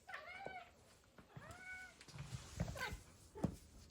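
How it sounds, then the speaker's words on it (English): A pet cat meows several times up close, two or three drawn-out rising-falling cries followed by shorter chirps and soft rustling, fairly quiet overall. "This is my cat."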